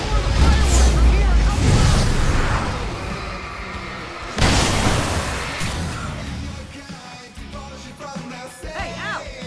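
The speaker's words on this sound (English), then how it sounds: "I can set off more of the fireworks from here!" Fireworks burst in the Alan Wake Remastered video game with loud booms and a heavy rumble that fades, then a second blast hits sharply and trails off amid game sounds.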